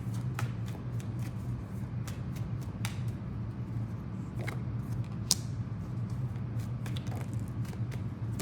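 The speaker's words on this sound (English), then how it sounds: "Cards are flying out for you guys." Tarot cards being shuffled by hand, a quick series of soft riffling flicks and taps over a low steady hum, close and fairly quiet, with no speech.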